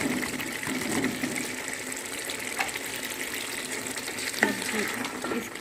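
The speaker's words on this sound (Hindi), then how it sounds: "तो अब हम डाल देते हैं अपनी दाल।" Lentils for a dal palak dish sizzle steadily in a hot pan, a continuous watery frying hiss with soft stirring scrapes, close and even throughout with a brief clink near the end.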